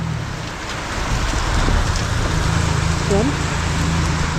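Heavy evening rain pouring on rice fields at sowing time, a dense, continuous hiss of falling water with a steady low rumble, loud and close throughout.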